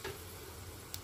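Dried red chilies and a bay leaf frying in hot oil, a continuous soft sizzle with a small tick near the end, no speech.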